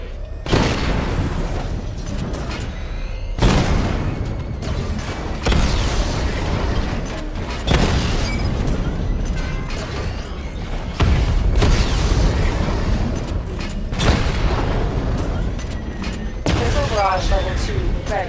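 A missile barrage from the Batmobile in Batman Arkham Knight sets off a run of heavy, rumbling explosions that keep coming loud and close, with mechanical whirs between the blasts and a voice speaking faintly beneath.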